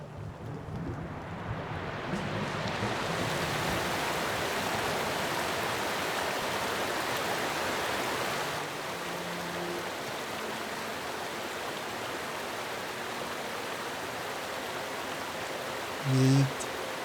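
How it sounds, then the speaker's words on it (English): In the Pillars of Eternity video game, a pool drains with a continuous broad rush of water, steady and fairly loud throughout, easing slightly partway through, with a brief knock near the end. "You hear the sliding of stone underneath your feet and a sudden rush of water."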